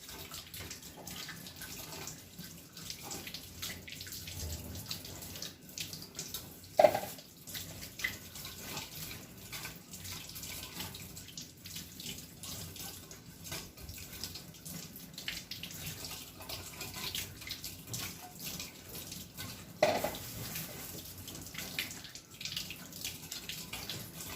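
Tap water running while baby potatoes are washed, a soft continuous trickle and splash with occasional louder knocks and handling sounds, fairly quiet and close.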